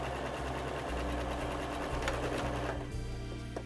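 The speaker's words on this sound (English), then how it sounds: "we're going to sew with these sides together" A sewing machine runs steadily while joining the sides of a Christmas stocking, a close, continuous mechanical hum with fast rhythmic needle chatter that pulses slightly in speed for a few seconds.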